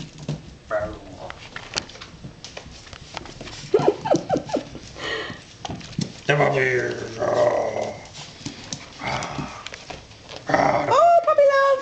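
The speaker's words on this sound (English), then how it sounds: "Oh, puppies!" Puppies whimper and give small yelps and growls in scattered bursts, close by, while a person talks over them at times.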